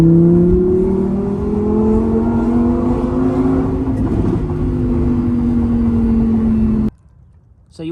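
Lamborghini Huracan EVO Spyder pulls hard across a bridge in Georgia, a loud sustained engine note rising steadily for about seven seconds under the wind, then cutting abruptly to quiet.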